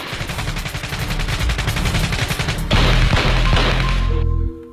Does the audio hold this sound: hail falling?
no